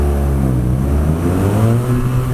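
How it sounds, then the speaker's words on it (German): BMW R nineT motorcycle accelerating hard in first gear, a loud, close engine roar with steady rising pitch throughout, no voices. "So, und jetzt beschleunigen wir mal durch. Erster Gang."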